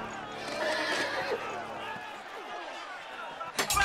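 A horse whinnies in a long, loud, wavering neigh, with hoof clatter and a thump near the end, amid a tense scene where people are talking over it.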